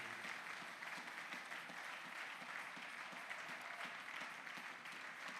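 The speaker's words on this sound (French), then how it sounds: "Acclamons très fort la parole de Dieu." Church congregation applauding loudly and steadily during a Sunday service, dense sustained clapping filling the room with no voices on top.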